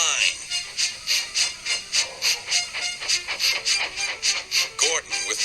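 A steam locomotive puffs and hisses in rapid rhythmic bursts of steam. The blasts repeat evenly and fairly loud, with a sharper squeal near the end.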